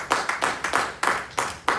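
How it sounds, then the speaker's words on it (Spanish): A church congregation clapping for Christ during a sermon: about six or seven loud, sharp claps in an uneven rhythm, close by, with no talk over them. "Dele palmas a Cristo."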